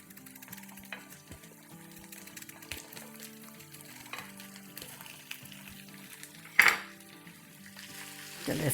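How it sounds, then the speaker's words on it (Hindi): Potatoes and garlic fry in a pan over a medium flame, a low, quiet sizzle under soft clinks of a utensil, with one sharp scrape or knock near the end. "चलिए इसको भूनते हैं।"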